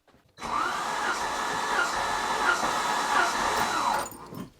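A Citroën XM barn find, unstarted for 20 years, cranks over on the starter during a compression test: a steady, rhythmic whirring churn lasting about four seconds, close and fairly loud, with no talking.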